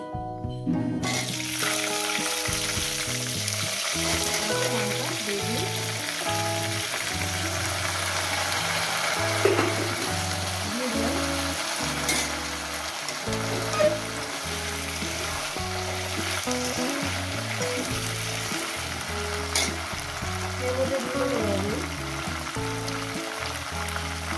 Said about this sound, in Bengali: এখন তো ভাজবো, 2-4 মিনিট ভেজে নেবো